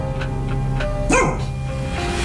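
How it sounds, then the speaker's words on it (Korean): A dog barks indoors at home: a few soft yips, then one loud, sharp bark near the mic, with no voices. "짖기 시작합니다."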